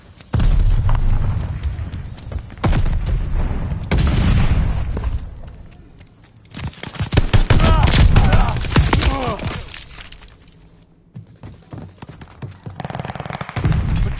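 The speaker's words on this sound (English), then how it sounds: "Tossing a sticky bomb." Sticky bomb tossed in a video game, followed by loud booming explosions and bursts of gunfire, with a voice talking between the blasts.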